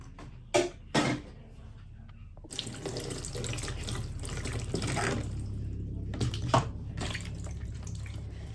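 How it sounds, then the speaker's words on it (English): Plantains are washed in water at a kitchen sink, with a couple of brief splashes, then a steady running tap and swishing water that continues for several seconds, close and clear with no talking. "I like washing my plantain before tossing it, just to remove every germ on it."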